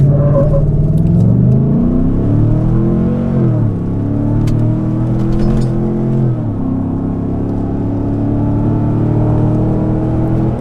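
A pickup truck fitted with an aftermarket intake accelerates hard on an open road. The loud engine drone climbs in pitch through two gear shifts, then settles into a steady high-rev whir, heard from inside with no talking.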